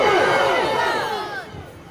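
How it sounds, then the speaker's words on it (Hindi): A large mosque or religious gathering crowd roars back the Nara-e-Takbir slogan in unison, a loud, massed shout of many voices that swells at once and then slowly tapers over about two seconds. "सब आदमी एक मर्तबा कहिए, नारे तकबीर, नारे तकबीर"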